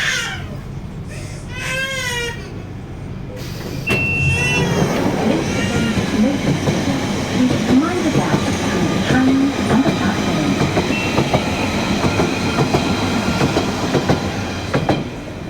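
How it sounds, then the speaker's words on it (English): A London Underground Central line train runs with a loud, steady rumble, clatter and rail squeal, after a few high whines at the start, with faint announcement-like sounds mixed in. "This is a Central Line train to Ealing Broadway."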